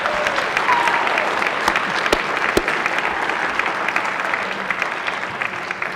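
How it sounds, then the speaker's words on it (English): Applause fills a state senate chamber during a floor session, a sustained, even clapping from many people with a few sharp, louder claps nearby. "How about another round of applause for them?"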